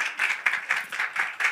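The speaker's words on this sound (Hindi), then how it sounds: "लेकिन पहले एक बार जोरदार तालियां हमारी प्यारी सी श्रवणी के लिए" A small audience at a press event claps in brisk, rhythmic bursts, the individual claps distinct and fairly near, forming short applause.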